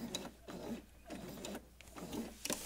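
A sewing machine stitching a seam in scrap fabric, a soft, quiet, rhythmic mechanical whir with regular pulses, heard close and alone.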